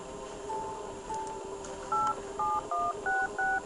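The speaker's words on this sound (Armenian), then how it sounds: "եկեք զանգենք Անջելինա Ջոլին, ինքը հաստատ կիմանա" A phone call placed during a game show, heard as a quick run of telephone keypad dialing tones: a few short beeps followed by a faster sequence of distinct tones, clear and close.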